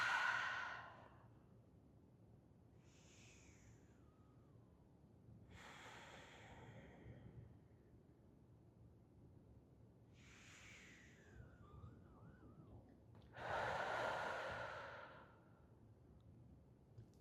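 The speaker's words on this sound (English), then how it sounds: "we'll take 3 deep breaths. Inhale to the top. And exhale all the air out." Three deep breaths during a somatics practice, alternating long, airy inhales and sighing exhales, each lasting a second or two with quiet gaps between, close but soft and without talk.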